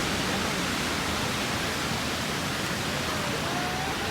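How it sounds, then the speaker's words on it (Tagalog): Strong morning ocean waves break on the beach at Baler, Aurora, making a continuous, dense roaring wash of surf. It is steady and fairly loud, with no talking. "Morning pa lang pero ang lakas na ng alon."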